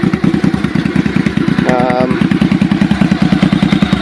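A Honda Shadow motorcycle engine runs at a steady idle, a loud, close, even chugging pulse with a brief rising whine partway through.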